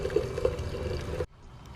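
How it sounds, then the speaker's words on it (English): Coolant gurgles and bubbles through the water-to-air intercooler system of an EG Civic hatch as it circulates, a close, steady watery burble with a few pops that suddenly cuts off near the end. "Yeah, it's still bubbling, but it's got a hold of the water now."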